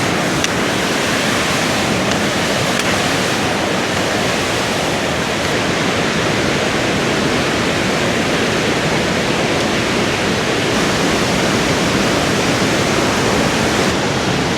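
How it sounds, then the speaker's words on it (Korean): Steady, loud rush of a waterfall on Meili Snow Mountain, Yunnan, a dense continuous roar with no breaks, close by and with no voices. "저 뒤로 폭포가 흘러내리고 있습니다."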